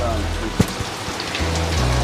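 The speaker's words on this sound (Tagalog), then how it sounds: "Grabe po, talagang tuloy-tuloy ng ulan, walang tigil." Heavy, steady rain pours down without letup, a dense continuous wash with a brief sharp knock partway through and a low hum underneath.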